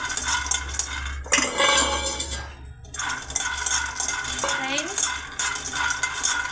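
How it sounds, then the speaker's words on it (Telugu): A spoon stirs and scrapes peanuts in a pan, giving a steady clatter and rattle of nuts against metal over a few seconds, with a brief spoken word near the start. "పల్లీలు ఇలా తిప్పుతూ ఉండాలి మాడిపోకుండా"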